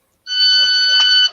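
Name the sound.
appliance beeping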